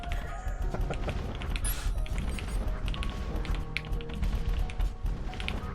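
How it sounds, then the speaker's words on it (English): Rapid clicky keystrokes on an NK87 mechanical keyboard with stock stabilizers and unlubed switches patter continuously, close and fairly loud, in uneven bursts. "I can't talk and type at the same time."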